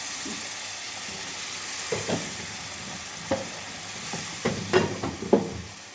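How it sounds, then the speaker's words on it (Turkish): Semolina halva being stirred in a pot on a low stove flame, with scattered scraping and sizzling bursts over a steady background hiss, growing busier toward the end. "Ocak en kısıktayken suya girdik. Biraz karıştıralım."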